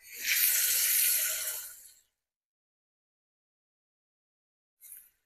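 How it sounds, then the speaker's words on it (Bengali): Water poured into a hot pan of mustard-based fish curry with sarpunti fish sets off a loud, sharp hiss that lasts about two seconds, then silence, followed by a brief softer sizzle. "এতে জল দিয়ে দেবো আমি।"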